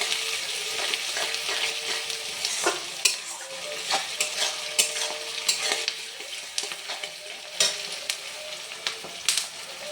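Sliced onions with salt fry in a pan while being stirred, a continuous close sizzle broken by repeated scraping and clattering strokes of the spoon, with no voices.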